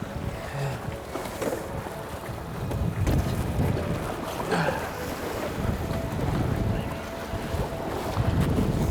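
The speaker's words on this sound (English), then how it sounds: "That wind is really changing now." Strong wind gusting across a lake during fly fishing, a steady, loud rushing roar with buffeting on the microphone and lapping water beneath, continuous throughout.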